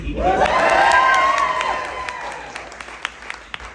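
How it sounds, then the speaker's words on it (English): A small audience at a live comedy show at Madame ZuZu's erupts into cheering and whoops over steady applause, then fades to scattered individual claps. "You guys need to cheer for it."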